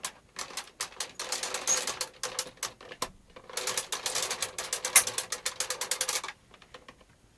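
A Bond knitting machine carriage is pushed slowly across empty needles on a cast-on row, making dense mechanical clicking and ratcheting in two long passes split by a brief pause, then falling quiet near the end.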